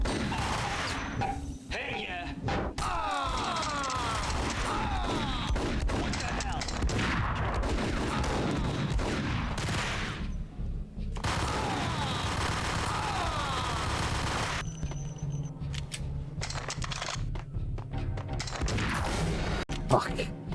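Gunfire in the Max Payne video game: sustained rapid bursts of automatic shots with crashes, loud and dense throughout, broken by brief pauses, with a player's voice talking at times.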